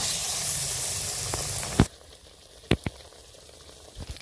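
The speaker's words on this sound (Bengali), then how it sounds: "তেল গরম হয়ে গেছে, এবার বেগুনি ছেড়ে দিচ্ছি।" Eggplant fritters (beguni) drop into hot oil with a loud steady sizzling hiss that cuts off abruptly partway, followed by a few sharp clinks and faint bubbling.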